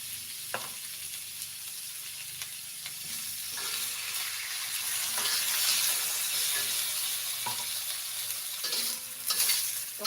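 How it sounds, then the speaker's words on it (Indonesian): Bok choy stir-fried in a hot pan gives a steady, close sizzle with frequent scraping stirs and occasional clinks, swelling louder midway, with no talking. "Ini lagi buat tumis sayur pakcoy ya."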